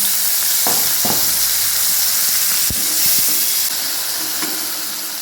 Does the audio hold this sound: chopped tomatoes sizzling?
yes